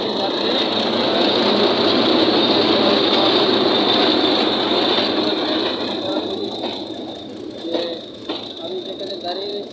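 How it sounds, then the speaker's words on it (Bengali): A train passes through Airport railway station, a steady loud rumble with a high hum that fades over the last few seconds, with faint voices and station noise underneath. "আপনারা দেখতে পাচ্ছেন একটি ট্রেন আসছে"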